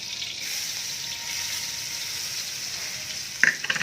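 Chopped onion, chili and curry leaves sauté in butter in a pan, giving a soft, steady sizzle at close range, with a few clinks of a utensil stirring near the end.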